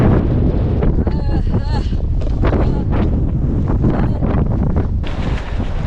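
Strong wind roars and buffets the microphone continuously on Maria Island, Tasmania, loud and close, with a voice speaking faintly beneath the rushing noise.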